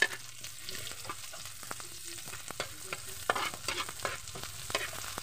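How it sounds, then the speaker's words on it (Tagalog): Sliced onions sizzle steadily in a hot pan for eggplant adobo while a utensil stirs them, scraping and clicking in irregular strokes over a continuous fry hiss, with no talking. "Sunod naman yung ating sibuyas bombay or onions. Halo ulit guys."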